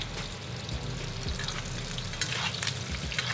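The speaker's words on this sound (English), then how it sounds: "As the butter starts to get hot, it'll start cooking the top side of this steak as well." A ribeye steak sears in a pan of hot butter with garlic and rosemary, giving a dense, continuous sizzle and crackle with scattered spitting pops, close and steady throughout.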